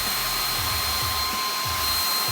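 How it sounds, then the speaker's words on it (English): A hair dryer blows loud and steady at close range, drying acrylic spray paint, its constant whooshing roar filling the whole moment with no talk. "Okay, blow dry time again."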